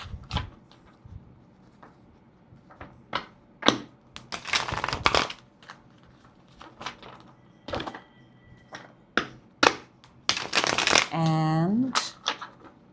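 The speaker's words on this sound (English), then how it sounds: "Let me give the cards a good shuffle." Tarot cards being shuffled in bursts of riffling and slapping, close and fairly quiet, with soft thumps of the deck between shuffles and a brief rising tone near the end.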